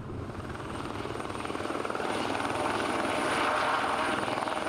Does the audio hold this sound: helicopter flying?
yes